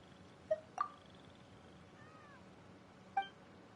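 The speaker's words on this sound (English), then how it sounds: "I hear a cat." A cat in Genshin Impact gives a few short, faint meow-like calls spaced over a few seconds, set against quiet outdoor game ambience with a soft high tone.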